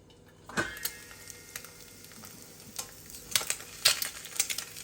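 An egg fries in an uncoated steel pan, giving a steady close sizzle broken by sharp scraping taps as it slides around the metal.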